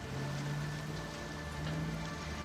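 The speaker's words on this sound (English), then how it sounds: "this rain ambiance is really working for my brain" Rain ambience in L.A. Noire: a soft, steady hiss of rainfall under a faint low droning tone, quiet and even throughout with no speech.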